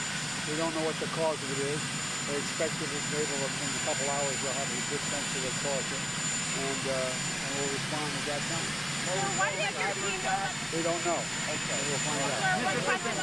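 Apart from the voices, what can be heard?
helicopter noise on the White House south lawn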